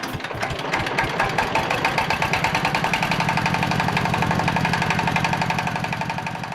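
A motorboat engine carrying a team and its equipment chugs steadily nearby, a rhythmic, knocking idle-like pulse that holds at an even pace throughout, with no talk.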